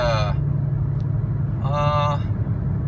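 A Cummins diesel truck with a G56 transmission running in fourth gear, a steady low engine rumble that continues under two brief bursts of a man's speech.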